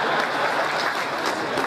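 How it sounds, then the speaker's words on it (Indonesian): A crowd of party cadres at a political speech gives a steady burst of dense applause, loud and continuous with no break throughout. "Silakan kalau mau tepuk tangan"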